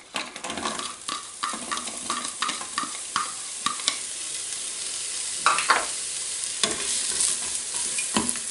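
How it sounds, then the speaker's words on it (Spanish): Chopped onion frying in a little oil on a griddle, a steady close sizzle broken by repeated scraping stirs of a utensil against the hot surface, no talk. "Y ahora sofreímos la cebolla."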